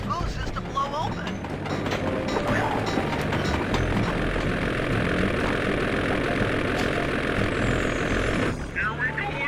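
Steady, loud propeller-plane engine drone from the ice plane in the video game Sly 2: Band of Thieves, continuous throughout with a slight shift near the end.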